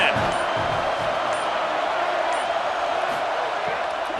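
Stadium crowd in a college football video game, a dense continuous roar filling the whole stretch at steady loudness, with no speech over it.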